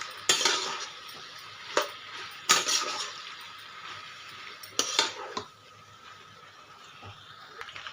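A spoon scrapes and knocks against a pan while pasta is stirred into fried masala, several sharp clinks over a soft continuous stirring and faint sizzle, no talking.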